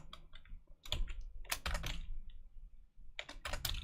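Keys clatter on a computer keyboard in bursts of rapid typing, close and fairly loud, with short pauses between clusters of clicks.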